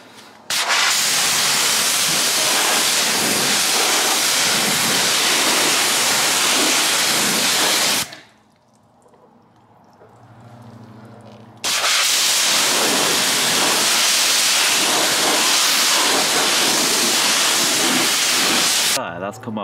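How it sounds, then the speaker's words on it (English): A pressure washer blasts dirt off car tyres during a detail after tyre cleaner is applied, a loud, steady hissing spray running for about eight seconds, breaking off briefly, then roaring again for another long burst. "we'll pressure wash this bit"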